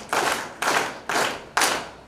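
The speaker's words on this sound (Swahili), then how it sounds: "Tumpe makofi matano mazito mgeni wetu rasmi." An audience at a university convocation's annual general meeting claps in unison for the guest of honour, four heavy, evenly spaced collective claps, each a sharp burst with a short echoing tail.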